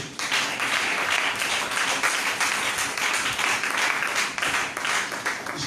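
A church congregation bursts into sustained, dense applause, many hands clapping together loudly and continuously from start to finish.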